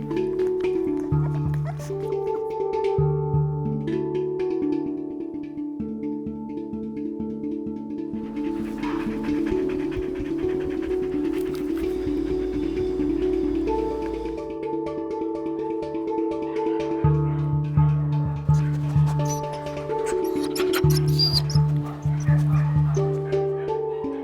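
Dogs rescued from the meat trade barking, yipping and whimpering in a mix of short calls, close and fairly loud, with a musical tone running beneath.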